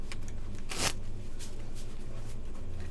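Playing cards are shuffled at a Pai-Gow poker tournament table, a short crisp riffle burst rising over a steady room hum.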